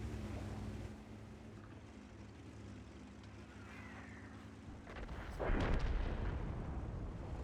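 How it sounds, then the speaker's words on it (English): Artillery shell striking in a tank battle game, a deep muffled boom rising out of a steady low engine rumble near the end, fairly loud and close. "I hate artillery, but that was a nice shot."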